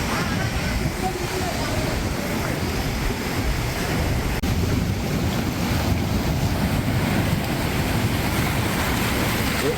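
A sea surge from coastal erosion pushes waves into a seaside village, roaring continuously with loud, rushing surf and strong wind buffeting the microphone throughout.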